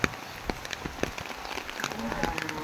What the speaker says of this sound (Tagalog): Maulan lang, maulan